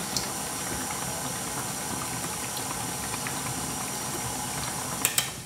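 A small kitchen food processor gently mixing a courgette, ricotta and mint terrine batter, a steady low whirring churn running evenly throughout, with a couple of sharp clicks near the end.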